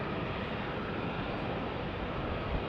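JetSuiteX jet aircraft at Salt Lake City International Airport, a steady, broad engine roar heard at moderate distance, continuous and even throughout.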